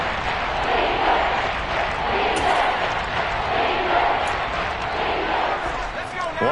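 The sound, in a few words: football stadium crowd cheering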